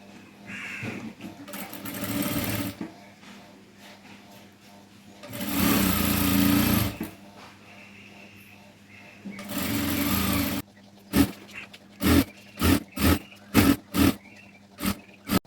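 A sewing machine stitches folded fabric pieces for a flower, running in three sustained bursts and then a string of short, sharp pulses as it sews with no one speaking.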